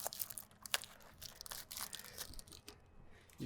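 Masking paper wadded up tightly in the hands while masking around a doorknob for spray painting, a close, continuous run of crinkling and crunching with a few sharper crackles and no talk.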